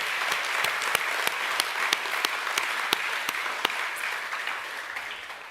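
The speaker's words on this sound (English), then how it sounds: "can we please give Darcy another round of applause for doing that today?" Applause for Darcy after her guitar performance at a junior school academic assembly, from an audience of about 800. A dense, steady wash of clapping with sharper individual claps popping out runs through the whole stretch, and no one speaks.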